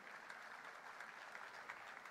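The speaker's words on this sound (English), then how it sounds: "Let's have a huge round of applause, ladies and gentlemen." Faint, steady applause from a seated audience at a national company secretaries' convocation ceremony, a continuous patter of clapping heard from a distance with no voices over it.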